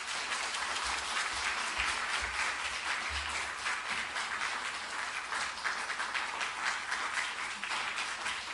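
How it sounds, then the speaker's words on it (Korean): A church congregation at a Sunday evening service claps to welcome a missionary to the pulpit. The applause is dense and sustained, filling the hall without a break for several seconds. "나오실 때 박수로 환영하겠습니다."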